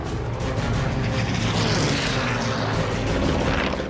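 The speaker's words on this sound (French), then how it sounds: "L'Américain fait faire un virage brusque à son Mustang pour se lancer derrière le FW 190" A P-51 Mustang fighter plane's engine roars loud and steady through a sharp turn, a dense, continuous propeller drone that swells slightly and holds, with no voices.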